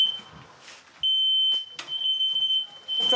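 A vibrating smoke alarm detector set as an alarm clock sounds a loud, steady high electronic tone up close, starting about a second in and holding, with brief rustling and handling noises around it.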